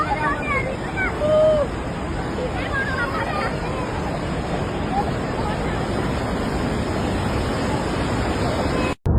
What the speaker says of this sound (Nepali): भोटेकोसीमा उर्लियो बाढी